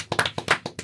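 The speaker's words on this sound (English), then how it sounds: "A little round of applause for Zilla." A few hands clap in a brief, sparse round of applause, several distinct close claps in quick uneven rhythm, fairly quiet.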